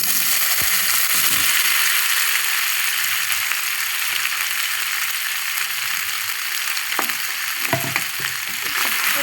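Marinated soya chunks frying in hot oil in a pan: a steady, dense sizzle that carries on throughout, with a few faint clicks and knocks of utensils underneath.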